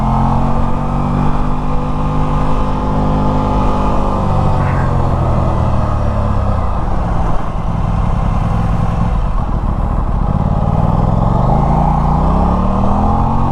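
A 2024 Aprilia RS660 Tribute motorcycle engine pulls loud and close, its pitch climbing and dropping through repeated throttle surges and gear changes, with no talking.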